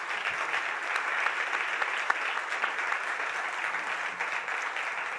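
A round of applause at a startup awards event welcoming the Chief Minister, a steady, fairly loud wash of many hands clapping from start to finish.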